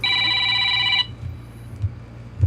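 A telephone rings loudly and close for about a second, then stops, leaving a low background hum with a few faint thumps.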